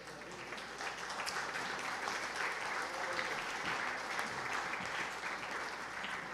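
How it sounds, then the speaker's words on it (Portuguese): A church congregation claps steadily and evenly for the whole stretch, a dense, sustained wash of applause at moderate level with no voices standing out. "Fique de pé e aplauda o Senhor."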